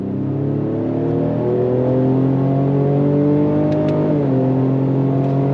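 A 2025 Ford Explorer ST twin-turbo AWD performance SUV accelerating hard, its loud, close engine note climbing steadily in pitch with a brief dip at a quick gear shift before rising again.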